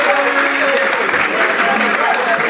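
An audience claps for a team at a Comorian culture and language quiz game show, a steady dense patter of applause throughout, with a voice talking over it.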